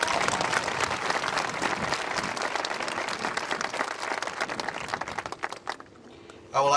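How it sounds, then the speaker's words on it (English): An audience at a high school graduation ceremony for the class of 2019 claps in a sustained round of applause, thinning into a few scattered claps at the end. "Let's give her a round of applause."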